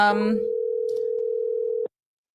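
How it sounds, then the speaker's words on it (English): A single steady telephone tone from an outgoing call sounds loud and clear for nearly two seconds and then cuts off abruptly into silence, with a brief burst of voice at the start. "Miss Shelma, we're calling you. Answer your phone"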